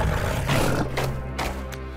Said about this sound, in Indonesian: Sepertinya raungan Lin memanggil kambing gunung itu sungguhan.